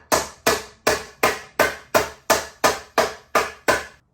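Ten sharp, evenly spaced metal impacts, roughly every 0.4 seconds, as a hammer strikes a Trek Ticket S full-suspension mountain bike frame, each bang loud and close with a quick ringing decay and no talk.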